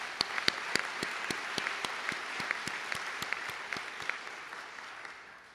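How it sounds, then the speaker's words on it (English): An audience at a conference session applauds, a steady wash of many hands clapping with a few sharp, rhythmic claps standing out throughout, moderately distant and without speech. "I think that requires an applause on your university's behalf"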